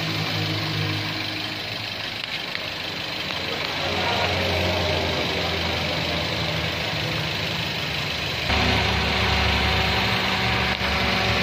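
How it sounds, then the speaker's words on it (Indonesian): A Toyota Avanza engine idles steadily up close with the radiator fan spinning, a continuous mid-low mechanical drone and whirring that thickens partway through, without talk. "pan radiatornya sudah bekerja ya, sudah berputar"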